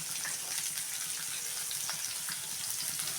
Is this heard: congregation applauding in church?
no